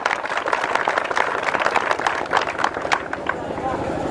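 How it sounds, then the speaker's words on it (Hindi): An audience at a gathering of army aspirants bursts into loud, dense applause that carries on steadily and close, with a scattered rumble of voices mixed in before it thins toward the end. "अपने लिए एक बार जोरदार तालियां बजाइए आप लोग।"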